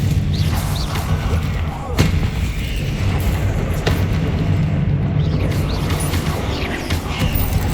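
Bombarda and Confringo spell blasts go off in Hogwarts Legacy, a dense barrage of heavy booms and thuds under continuous loud game sound, with sharp cracks near two and four seconds.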